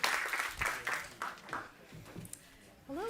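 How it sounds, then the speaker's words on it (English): Audience applause for a moderator at a Climate Week NYC conversation event, a short burst of clapping mixed with voices, fading after a few seconds before a speaker resumes. "Give her a round of applause."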